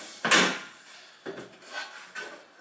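A mounting frame is slid and fitted onto a WEMO 51N 12-volt boat and motorhome fridge, producing a loud scraping knock followed by two softer rubbing clunks, with no speech.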